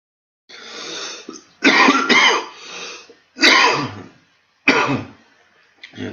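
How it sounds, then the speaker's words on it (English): A man with a lingering chesty cough coughs several times in separate bursts, some double, loud and close to the microphone with silent gaps between them. "I do apologise about this chesty cough for last week"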